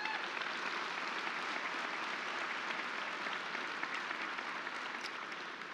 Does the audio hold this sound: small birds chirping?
no